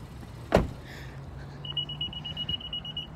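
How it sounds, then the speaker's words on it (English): A 2019 Honda Odyssey EX gives a short electronic chirp on detecting the key fob, followed by a sustained high beeping tone, close and clear over low outdoor background noise. "the car sensors my remote in my pocket for the key fob, so it automatically signals for me right away"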